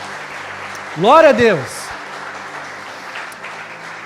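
A church congregation applauds during a sermon, a steady wash of clapping that runs through the whole moment while a preacher's voice rises briefly in an exclamation over it.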